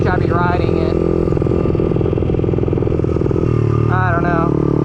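A motorcycle engine drones steadily while the bike is ridden, a loud constant rumble with a voice speaking over it in short bursts.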